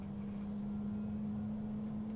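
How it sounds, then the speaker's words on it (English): Cessna Citation CJ4 right jet engine spooling up during start in Microsoft Flight Simulator, a steady low whine with a strong constant drone and even broadband rumble throughout, no talk. "That should start our right engine here, which is going to come up on this side."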